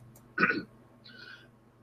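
A single short cough, close and fairly loud, followed by a fainter throaty sound.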